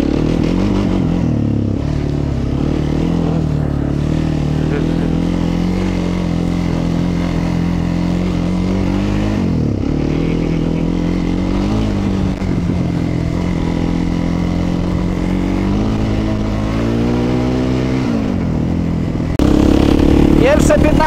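A quad bike's engine drones loud and steady while riding, its pitch rising and falling with throttle changes and a harsh buzzing tone that continues without a break throughout.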